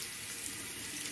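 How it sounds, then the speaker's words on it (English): A synthetic shaving brush is rinsed under a running tap, a steady close hiss of flowing water into a sink with no pauses or talking. "Just run it under the water, it's ready to go."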